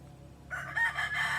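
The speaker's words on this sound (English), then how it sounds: "And he's got his roosters back here." A rooster on a rural Philippine homestead gives a single crow lasting about a second, clear and moderately close, with no talk over it.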